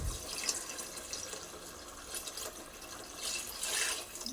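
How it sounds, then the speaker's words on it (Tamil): Rice-washing water poured into a cooking pot while making chicken biryani, a soft, steady splashing trickle with brief louder surges, close by and alone without talk. "அரிசி களைஞ்ச தண்ணியை ஊற்றிக்கிறோம்."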